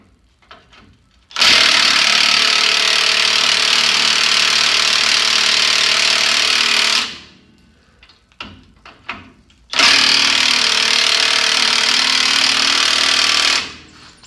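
A power tool cuts through U-bolts on a budget vehicle build in two loud, sustained grinding bursts, about six and four seconds long, separated by a short pause with small clanks, close and harsh.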